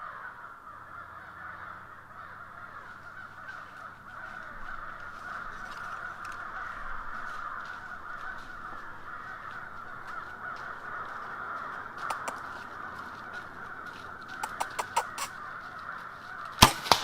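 A flock of crows caws continuously outdoors during an Oklahoma deer hunt, a dense steady chorus of harsh calls at middle distance, ending with a few sharp close clicks and knocks.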